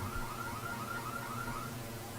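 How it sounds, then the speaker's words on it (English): A car alarm sound effect played at a college softball game, a steady warbling electronic siren cycling through rising and falling tones, faint and heard alone. "that is just a sound effect. That car alarm"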